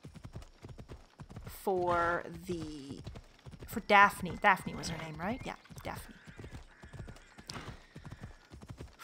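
Horse hooves in the video game Assassin's Creed Odyssey clop in a quick, steady gallop under a voice talking, with a horse whinnying briefly partway through.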